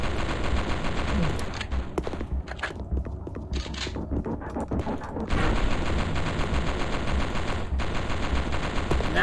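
An automatic battle rifle fires in a PS1 horror game demo. The rapid, sustained bursts of digital gunfire stutter through the whole stretch at moderate loudness, with brief dips between volleys.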